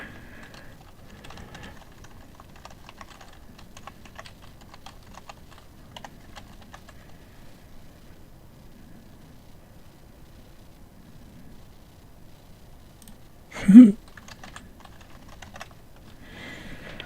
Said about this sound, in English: Just type my email in there.